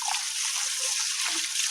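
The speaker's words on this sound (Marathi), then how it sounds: "तर धुते आता हात." River water splashes and trickles as hands are rinsed in it, a close, continuous bright wash of liquid sound with no voices.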